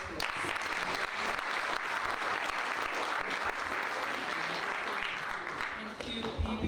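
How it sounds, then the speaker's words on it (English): A round of applause from delegates at a Methodist Church conference, dense and sustained clapping filling the hall at an even level throughout, with faint crowd murmur mixed in. "Let us give them a round of applause."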